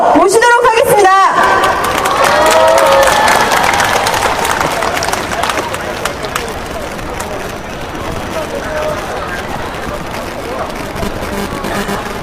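Outdoor crowd applause rises at a street rally as a speaker is welcomed, a broad wash of clapping with cheering and crowd babble that continues steadily under voices, with some distortion early on.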